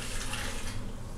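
Water pours steadily into a cooking pot over quinoa, a continuous close rush and splash that holds at one level throughout.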